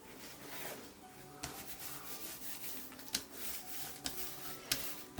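A hand rubbing firmly over patterned paper during card-making, a soft continuous scraping hiss with a few sharper ticks and bumps, close and fairly quiet with no talking.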